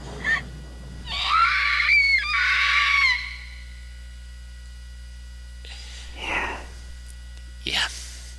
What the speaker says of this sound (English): And screams of primal pain.